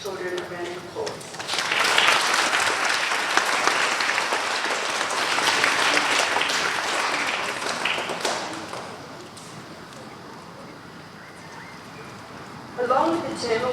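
Audience at a school award assembly clapping for children, a loud sustained round of applause that swells, holds for several seconds, then fades, with a voice briefly heard at the start and again at the end.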